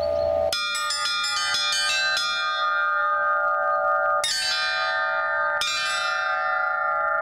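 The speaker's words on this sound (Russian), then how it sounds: "Либо вот техника игры на двух колоколах," Church bells cast by the Litex foundry in Moscow and the Shuvalov foundry in Tutaev ring close by, several quick bright strikes followed by two louder struck tones whose long metallic hum lingers and fades, with no talking.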